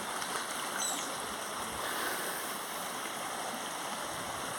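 Water flowing in a stream in a lush natural setting, a steady, full rushing wash that stays even and continuous throughout, with no voices.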